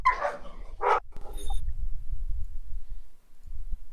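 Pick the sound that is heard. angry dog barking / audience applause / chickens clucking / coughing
angry dog barking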